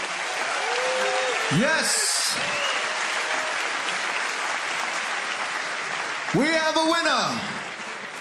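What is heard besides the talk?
crowd applauding fighters after MMA fight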